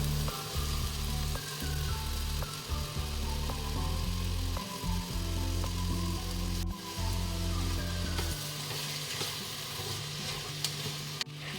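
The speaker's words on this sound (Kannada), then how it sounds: "ಅದು ಫ್ರೈ ಆಗ್ತಿದ್ದಾಗೆ ನಾನಿಲ್ಲಿ ಬೀನ್ಸ್ ಮತ್ತು ಕ್ಯಾರೆಟ್, ಹಸಿರು ಬಟಾಣಿ ಕಾಳನ್ನು ಸೇರಿಸಿ ಸ್ವಲ್ಪ ಹೊತ್ತು ಫ್ರೈ ಮಾಡಿಕೊಂಡೆ" Beans, carrots and green peas frying in masala in a pan, a continuous loud sizzle with scraping stir strokes and occasional metallic clinks, no voices.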